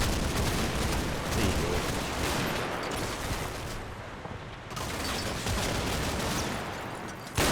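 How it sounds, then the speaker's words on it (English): Bren light machine gun firing in the Combat Mission: Battle for Normandy war game, part of a dense, continuous barrage of gunfire and explosions that runs loud throughout, briefly easing midway, with a short spoken line near the end. "Go on, open up. Come on, Bren."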